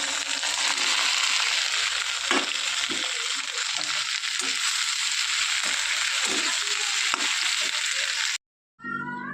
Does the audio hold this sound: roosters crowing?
no